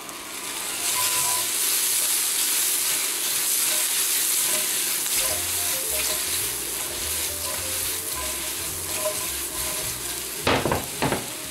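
Mushrooms browning in butter in a frying pan give a steady close sizzle and crackle, with occasional stirring scrapes and a couple of sharp utensil knocks near the end.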